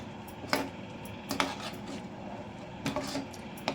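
Plum cake batter with cardamom powder is mixed by hand in a bowl: a soft, steady stirring bed with four sharp utensil clinks against the bowl at uneven intervals, close and fairly quiet, with no voices.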